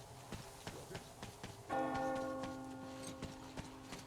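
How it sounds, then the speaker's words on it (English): Over a faint ticking background, a single bell in the video game Metro Exodus strikes clearly and its ringing tone lingers and slowly fades. "You hear that bell?"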